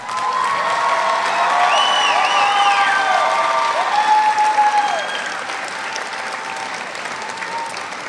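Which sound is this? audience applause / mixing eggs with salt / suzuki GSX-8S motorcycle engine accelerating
audience applause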